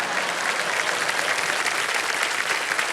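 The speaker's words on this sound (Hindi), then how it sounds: "कौन बजाया ताली?" A studio audience on the Kaun Banega Crorepati game show applauds with dense, continuous clapping. It sounds full and steady from start to finish, with no voices over it.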